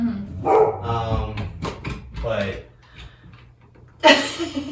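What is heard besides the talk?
dogs barking behind a door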